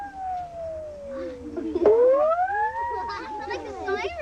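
A hand saw struck with a ball on a stick rings out in a wavering, gliding tone that rises and falls like a siren, sustained and fairly close, with sweeping overtones.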